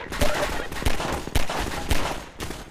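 Rapid repeated gunfire in Half-Life 2, five or six loud close shots at a roughly even rhythm over steady game background.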